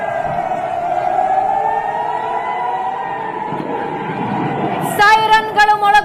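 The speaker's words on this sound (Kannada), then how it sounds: "ಸೈರನ್ಗಳು ಮೊಳಗುತ್ತಾ ಇವೆ." An air raid siren wails in a long sustained tone during a Pakistan–India missile attack, loud and steady, before a sharper layered burst of alarm tones cuts in near the end.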